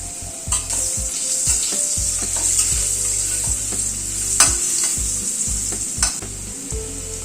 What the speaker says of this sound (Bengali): আলুটাকে প্রথমে একটু ফ্রাই করে নিচ্ছি সামান্য একটু নুন দিয়ে দিলাম সামান্য একটু হলুদ দিলাম